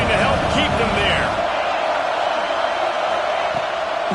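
Steady roar of a football stadium crowd at a college game, sustained and loud under a commentator's voice, with faint whoops rising out of the din.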